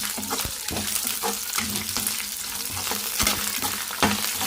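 Dry red chillies and spices frying in a hot pan, a dense continuous sizzle with rhythmic scraping stir strokes from a spoon, close and loud with no talking.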